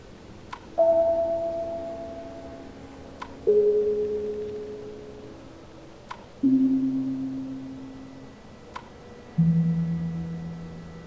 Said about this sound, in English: Listen to the tones by pressing the red buttons.